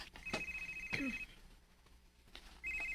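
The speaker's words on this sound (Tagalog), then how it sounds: "Ang cellphone ni Renz" A cellphone rings in a home in two bursts of high, steady electronic tone with a gap between them, fairly close and clear, and no one speaks.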